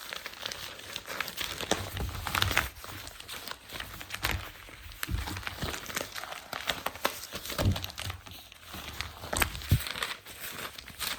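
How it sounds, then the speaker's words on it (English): Newspaper being crinkled and crumpled by hand, close and crisp, with irregular bursts of crackling and rustling that rise and fall throughout, no talking. "We can crinkle some paper for a bit."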